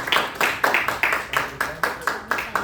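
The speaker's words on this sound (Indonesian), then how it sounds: "kita beri tepuk tangan untuk kelompok 2" Classroom applause for a student group, a short run of rhythmic, evenly spaced claps, fairly close, with some voices underneath.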